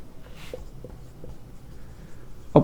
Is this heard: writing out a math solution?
yes